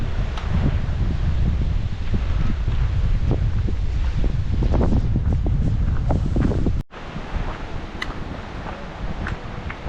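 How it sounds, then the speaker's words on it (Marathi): Strong wind buffets the microphone in continuous gusty rushes near a well on a Bhimashankar range trek, with rustling underneath; the roar briefly cuts out, then resumes a little lighter. "मस्त वारा वाहतोय"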